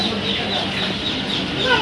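A dense chorus of Chinese and Beijing duck chicks at a busy duckling farm, steady overlapping peeping and chirping that stays close and loud throughout.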